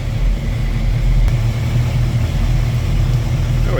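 A 1972 Chevrolet pickup truck drives down the road with a steady, deep engine rumble and road noise, loud and close from inside the cab, with no talking.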